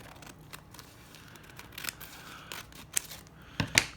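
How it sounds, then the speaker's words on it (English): Scissors snip through a glassine bag, cutting it in half with a few quiet, crisp clicks and a soft papery rustle, ending in a sharper final snip close to the microphone. "with the glassine bag, if you cut it in half"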